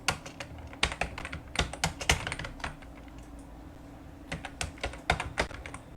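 Steady typing on a computer keyboard while entering text in MS Word, irregular bursts of close clicking keystrokes with short pauses between words, no talking.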